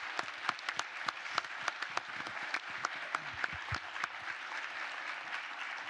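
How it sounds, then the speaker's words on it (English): Audience applause for a farming panel at an agriculture educational session, a dense, steady patter of many hands clapping in a room, sustained throughout with no voices. "I'd love to give a round of applause for all our growers on the panel."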